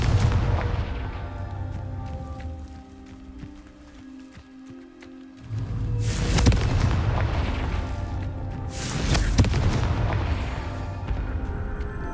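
Two heavy, booming blasts from the Confringo fire spell in the game Hogwarts Legacy, each a loud broadband burst with a rumbling tail, heard over a steady game ambience with a brief quieter dip between them.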